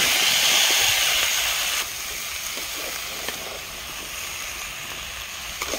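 Vegetables tipped into a pan of hot oil after fried fish, a loud hissing sizzle that bursts up at first and then settles into a steady, slightly quieter crackle, close by with no talking.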